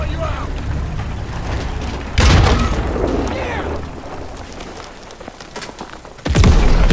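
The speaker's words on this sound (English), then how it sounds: "That's an enemy tank." Enemy tank in the Call of Duty WW2 video game during a Battle of the Bulge mission: a steady low rumble of battle is broken by two loud, sharp booms a few seconds apart, each trailing off into a rolling roar.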